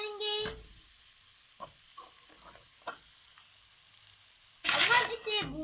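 Vegetable vermicelli with potatoes roasting in a pan, with soft stirring scrapes and light sizzling between louder bursts of frying at the start and end, and a voice heard briefly.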